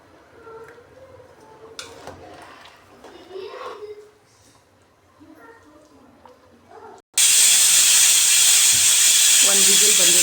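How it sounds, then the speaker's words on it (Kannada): During cooking of Karnataka-style tomato rice, a pressure cooker suddenly lets out a loud, sustained steam whistle and hiss that continues to the end, after a quieter stretch of talk and kitchen sounds. "ಒಂದು ವಿಸಿಲ್ ಬಂದಿದೆ."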